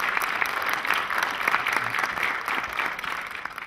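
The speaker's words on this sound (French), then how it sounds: "ils méritent des applaudissements très forts" Audience at a closing ceremony claps steadily, a dense, even burst of applause from a large room heard at moderate distance, without voices on top.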